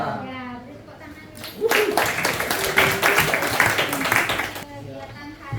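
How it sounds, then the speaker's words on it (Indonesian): A classroom of students claps together in a burst of applause lasting about three seconds, loud and dense, with children's voices before and after it. "Ya, beri tepuk tangan."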